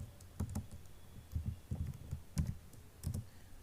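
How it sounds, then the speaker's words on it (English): Keys are tapped on a computer keyboard as a command is entered in a terminal, in short clusters of soft, close clicks with brief pauses between them. "type your command python 3"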